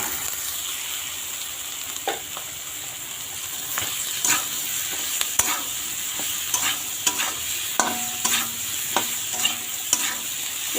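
Chopped pointed gourd (potol) sizzles and fries in a pan, with a steady hiss underneath and intermittent scraping knocks of a spatula stirring the pieces.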